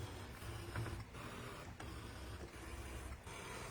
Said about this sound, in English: I really like that about the ScanNCuts, is their cutting is very quiet.